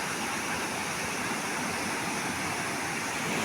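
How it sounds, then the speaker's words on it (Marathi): A river flows through hills during monsoon rain, producing a steady, dense rushing wash of water that is loud and unbroken throughout, with no voices. "शांत गतीने अशी ही नदी वाहते"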